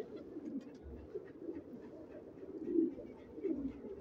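Pigeons coo softly in their pens, a low murmuring burble from several birds that is faint and close, with breezy ambience and no talk.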